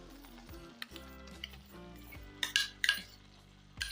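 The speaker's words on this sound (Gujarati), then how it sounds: "તો મેં એક વાટકી જેટલું ઘી લીધું છે આ ઘી આપણે એની અંદર નાખી દઈશું" Ghee goes into carrot halwa in a pan, bringing a few sharp sizzling bursts and clinks of a spoon against the pan over faint tonal background music, nearby with no talk.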